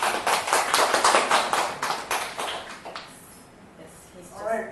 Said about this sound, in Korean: 박수 한번 이제 해주세요.